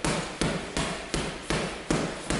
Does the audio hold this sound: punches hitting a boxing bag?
yes